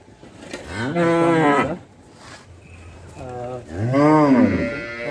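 A dairy cow moos twice nearby, two long drawn-out lowing calls separated by a short pause, loud and clear.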